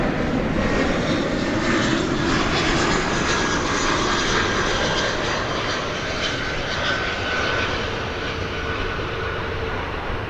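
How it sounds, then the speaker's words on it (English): An airliner inbound from Denver arrives at DFW Airport through fog, its engine roar steady and loud for the whole stretch, a broad sustained rumble with no voices. "Here comes the Denver flight."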